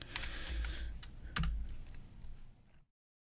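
Rapid keystrokes on a computer keyboard, close and clear, in one continuous burst with a few sharper clacks before the sound stops abruptly into silence.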